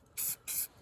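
Two short bursts of an aerosol spray can in quick succession as rusty Bobcat 334 excavator track roller and guide parts are painted, close and alone in a quiet space.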